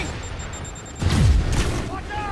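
A rocket explosion in Spider-Man Remastered, a sudden heavy boom about a second in with a descending rumble and debris rush trailing after it, loud and close, set against game ambience and a voice.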